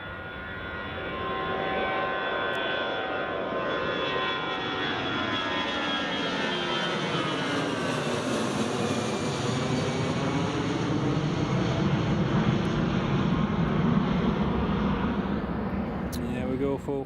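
An EasyJet airliner taking off from Newcastle International Airport for Bristol, its jet engines a steady broad roar with a whine shifting in pitch, heard from a distance for the whole stretch while someone talks over it.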